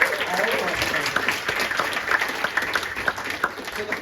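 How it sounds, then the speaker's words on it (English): Audience applause for the presenters at a hackathon, a dense burst of many hands clapping that gradually thins, with voices mixed in beneath it. "Can we get one more round of applause for all of our presenters?"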